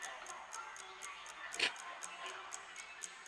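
A wall clock ticks steadily indoors at night, even, evenly spaced ticks at a quiet level with one soft bump of other noise partway through.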